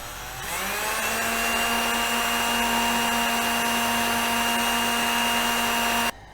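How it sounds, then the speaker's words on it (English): A power drill starts up and runs steadily at a high, even whine for about six seconds while drilling into wood, then cuts off abruptly. "now I just need to drill into the wood a little bit"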